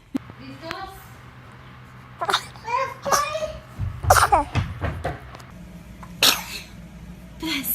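Several babies sneeze in quick succession, short sharp bursts spread through the scene, with adults talking and cooing between them and brief infant whimpers.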